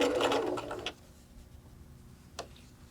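A sewing machine stitches fabric-covered cord into piping with a fast, buzzing run of needle strokes that stops within a second, leaving quiet room tone and one faint click.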